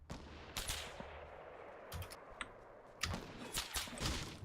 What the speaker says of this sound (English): Somebody's sniping from somewhere.